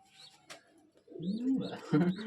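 Pigeons coo in a few soft, rolling calls, close by, with one breeding pair of a male and a female present; the calls build into a fuller, throaty burst toward the end.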